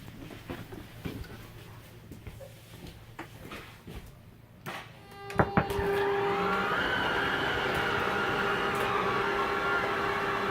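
A few clicks and clunks, then the steady motor whir of an RV slide-out on a Grand Design Imagine 2250RK travel trailer starts and keeps running evenly, fairly close.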